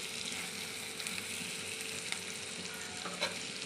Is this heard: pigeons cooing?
no